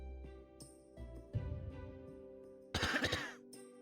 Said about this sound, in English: Man, it was so intense we got a double layered cough, I guess.